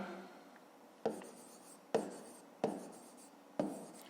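Pen strokes scratch across paper while a math solution is written out, four distinct scribbling bursts close and quiet, with no talk.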